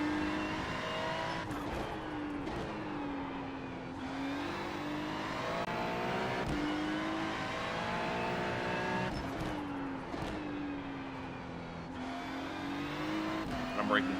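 A race car in an iRacing sim drives hard: a loud engine note climbs through the gears, then drops off under braking and shifts down, looping through corners with faint tire noise, while a voice talks over it.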